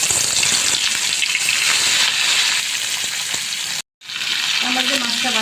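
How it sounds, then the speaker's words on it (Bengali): Fish (bata) frying in hot cooking oil, a loud continuous sizzle and crackle that cuts out for a moment near the end and resumes, close up. "তেলটা আমার গরম হয়ে গেছে, এখন আমি মাছগুলো দিয়ে দেবো।"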